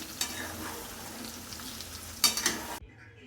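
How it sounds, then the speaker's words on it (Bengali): Vegetables frying in hot oil with ghee and cumin, a steady close sizzle with stirring scrapes and a couple of louder spatters near the end before the sound cuts off. "তোমরা সবাই দেখছো সবজিগুলোকে আমি ভেজে নিচ্ছি।"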